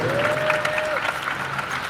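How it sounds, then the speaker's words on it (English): Crowd applause at a Liverpool protest rally, a dense steady wash of clapping and crowd noise throughout, with a brief tone or whistle early on. "Give him a big round of applause for the Holy Mole."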